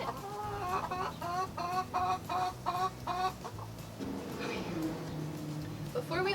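A backyard chicken clucks close by in a rapid run of short, evenly spaced notes, then shifts into lower, drawn-out murmuring calls, with steady outdoor background noise underneath.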